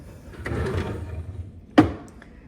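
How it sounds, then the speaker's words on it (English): A drawer in a Moore's Sewing SewFine Hideaway XL sewing cabinet slides with a soft rolling rumble, then shuts with one sharp, loud knock and a faint rattle afterward. "Now let's take a look at the drawers."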